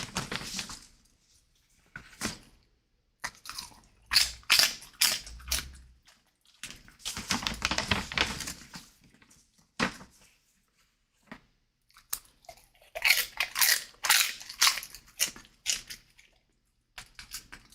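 Crunchy puff snacks are bitten and chewed close to the mic in bursts of sharp crackling crunches, separated by quiet pauses, repeated over several mouthfuls.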